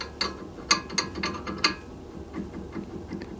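A 12 mm ratchet wrench clicks against a car's axial ball joint during a repair, a handful of quick metallic clicks near the start, then faint scraping.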